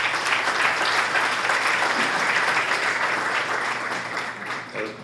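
Sustained audience applause at a startup investment event in Ecuador, dense and steady throughout, fading slightly toward the end.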